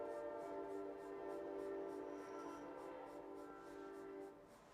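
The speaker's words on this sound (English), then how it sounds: "Wait for the train to go by." A train passes at a distance, a steady low rumble with a faint horn-like tone that fades slightly toward the end, heard alone without talk.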